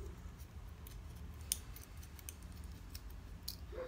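Paper being cut with scissors during ornament crafting: quiet, sparse snips and rustles, with one sharper click near the middle and another toward the end, over a low steady background hum.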